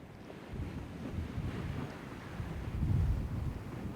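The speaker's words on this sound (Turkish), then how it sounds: "Bak görüyorsunuz nasıl dövüyor dalgalar." Low, rumbling surf pounding the Tekirdağ shore during a storm, with steady wind buffeting the microphone, swelling louder near the end as a wave breaks close by.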